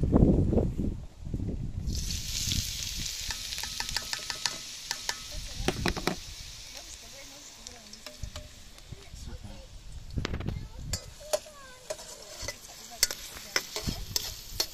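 Chopped onion frying in quality olive oil in a hot pan inside a caravan kitchen for sausage risotto, a steady soft sizzle broken by scraping stirs and utensil taps.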